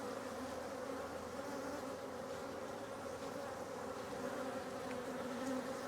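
Honey bees buzz at an opened hive during a split for a new queen, a steady, dense drone that stays constant and close throughout, fairly quiet, with no voices.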